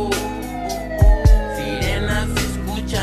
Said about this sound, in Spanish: sirenas se escuchan a diario.